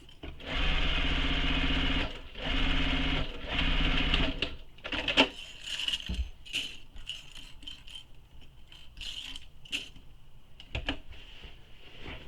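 Sewing machine stitching the seam of an Oasis backpack, running in several steady motor bursts through the first five seconds, then quieter stop-start handling, rustling fabric and short clicks.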